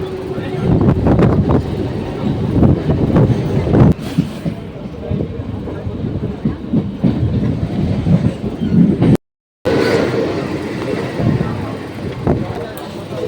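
A Mumbai local commuter train heading to CSMT rumbles and clatters steadily on the tracks while voices talk over the noise; the sound drops out briefly near the end.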